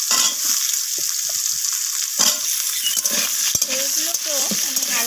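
Cut potatoes and sweet potatoes fry in a pan after a radhuni tempering, giving a close, bright sizzle broken by scraping stirs and light clatter of the spatula against the pan.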